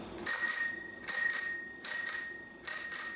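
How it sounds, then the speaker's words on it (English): A thumb-operated bicycle bell rings four times in quick double strikes, each a bright metallic ding with a lingering ring, loud and close, spaced evenly with short pauses between. "And this is the thumb bell."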